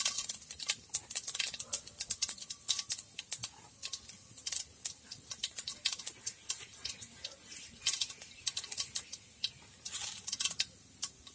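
Cumin seeds spluttering in hot oil in a pan while making masala uppittu from leftover idli, a dense run of sharp crackling pops and ticks, close and fairly loud, with no talk over it.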